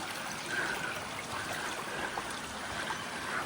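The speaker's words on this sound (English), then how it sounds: "At least there's a little bit of water" A small stream trickles steadily along a forest track in the Dandenong Ranges National Park near Griffith Falls, a faint, continuous watery wash with no talk.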